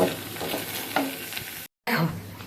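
Potatoes sizzling and being stirred in a pan with raw tomato added, a steady close frying hiss with scraping spatula strokes, briefly cut off then resuming.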